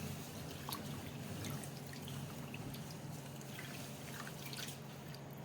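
Washed rice drains in a kitchen, with a faint, steady trickle of water and scattered soft drips, close and without talk.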